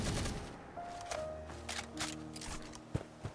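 Gunshots and weapon handling in a modded PC game of Fallout 4, with an opening blast that decays and is followed by sharp clicks, mechanical clatter and scattered cracks, no voices.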